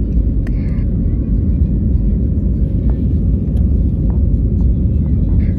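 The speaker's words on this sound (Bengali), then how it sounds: "ঠিক সময়েই এরোপ্লেন ছুটতে শুরু করলো রানওয়ে দিয়ে।" An airplane accelerates down the runway on its takeoff roll from Kolkata bound for Jaipur, heard from inside the cabin as a loud, constant low rumble with a few faint clicks and knocks.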